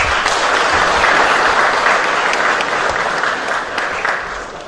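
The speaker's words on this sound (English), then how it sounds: "give a big hand clap to the siblings." A church congregation at a memorial service claps loudly and steadily in a dense, sustained burst of applause that tapers slightly toward the end, with a few murmured voices mixed in.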